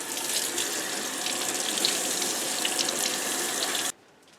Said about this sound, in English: so let's go ahead and rinse this out.